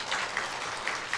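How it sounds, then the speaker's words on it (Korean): Steady clapping from a church congregation at a youth worship service fills the whole stretch, a dense, even patter with no voices over it. "박수를 치니까 좀 쑥스럽네요."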